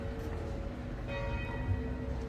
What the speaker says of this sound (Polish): Ten dzwon fajnie bije.